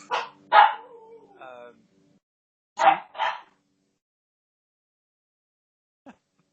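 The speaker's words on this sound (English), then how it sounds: "this little dog has just been let loose out in the backyard and is waiting for her companion, I guess, to come out and join her." A small dog barks and yips a few times in a backyard, with short close bursts separated by pauses, a whine-like tone after the first barks, and a faint click near the end.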